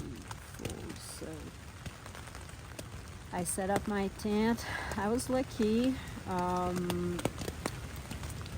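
Steady rain patters on a tent along the Appalachian Trail, a continuous soft hiss running throughout while a person talks over it.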